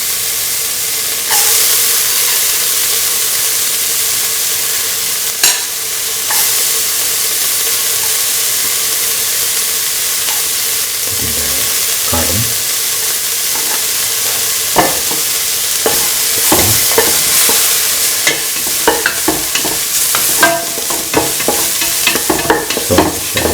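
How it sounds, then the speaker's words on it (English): Cut shallots sauté in a hot pan for a sweet coconut milk vermicelli dish, sending up a loud continuous sizzle and hiss with scattered stirring scrapes and pops that grow busier toward the end. "saute the shallots until they lose their pinkish color."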